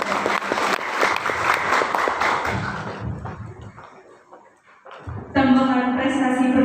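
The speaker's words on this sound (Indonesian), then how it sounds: "Berikan tepuk tangan yang meriah." Applause rings out from an audience at a school graduation send-off ceremony, a dense burst of clapping that fades into quieter crowd noise before a sustained musical tone takes over.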